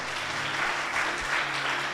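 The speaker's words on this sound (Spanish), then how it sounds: "¿Cuántos le dan un aplauso al Señor?" A church congregation applauds during a Spanish-language sermon, giving a steady, full wash of clapping from many hands throughout the short moment.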